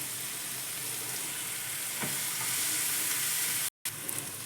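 Onions frying in a pan with a ground paste, turmeric and salt: a constant close sizzle with faint stirring scrapes, briefly cut off near the end before resuming, with no talk.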